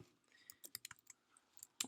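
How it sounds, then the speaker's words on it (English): Quiet typing on a computer keyboard, a dozen or so light key clicks in an uneven rhythm, close by. "if you're typing"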